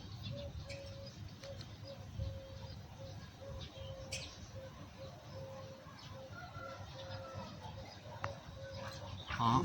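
Small birds, a sparrow and bulbuls, around a bird trap outdoors: faint scattered chirps and calls over steady background noise, with a thin repeated tone and a brief louder burst near the end.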